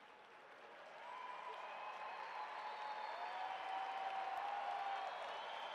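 Applause for graduates at a December 2018 commencement ceremony, a dense, steady wash of many hands clapping that swells after the first second and holds full and sustained to the end, with no speech over it.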